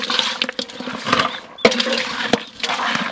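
Green soup colored with turmeric powder is stirred in a cooking pot, giving a continuous wet sloshing and scraping with a few sharper knocks against the pot and no talking.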